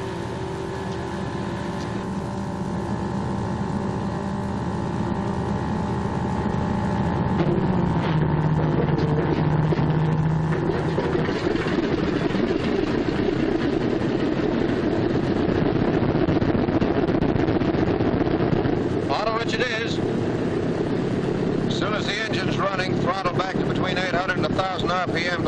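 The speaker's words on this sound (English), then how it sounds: "I'm going to start the left engine first." The left engine of a 1944 B-26 bomber starts and runs: a loud roar builds after a few seconds and settles into steady, rumbling running with gusty wind noise over it.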